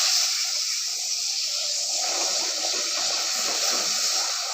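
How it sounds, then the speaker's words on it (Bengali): One litre of milk poured into hot caramel in a pan while making rasmalai, a steady, loud rushing pour with a hissing wash that runs unbroken for the whole stretch, with no talk. "দুধটা আমি ক্যারামেলের মধ্যে ঢেলে দেবো"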